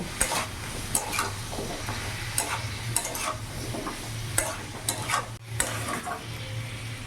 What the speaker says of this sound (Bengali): ভালো করে নাড়াচাড়া করে কিছুক্ষণ ভাজা ভাজা করে নেব।